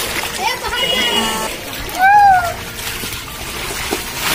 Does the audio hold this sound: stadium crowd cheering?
no